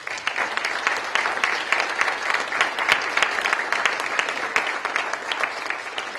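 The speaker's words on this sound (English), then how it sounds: "another round of applause for all of our Payne Award winners this afternoon" A sustained round of applause from an audience for journalism ethics award winners, dense, even clapping filling the room throughout without a break.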